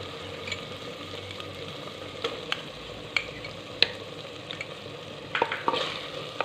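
Cream being stirred into chicken handi in a pan, a steady close sizzle with repeated scraping and clinking strokes of the spoon, with no talking.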